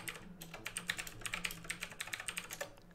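Rapid clicking of keys on a computer keyboard, a steady run of close, crisp keystrokes with no voices.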